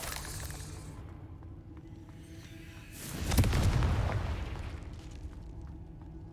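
Confringo fire spells exploding in the video game Hogwarts Legacy: a low rumble swells into one loud, broad fiery blast in the middle that decays slowly, with lighter crackling bursts around it and no talking.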